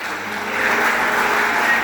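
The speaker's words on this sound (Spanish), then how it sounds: "Dele palmas al Rey de Reyes." Church congregation clapping steadily together, a soft continuous patter of many hands with no voices over it.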